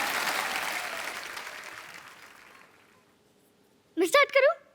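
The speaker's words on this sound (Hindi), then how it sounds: "ठोको ताली।" A studio audience on a comedy show gives a burst of applause that fades over about three seconds, then a short spoken phrase follows after a moment of quiet.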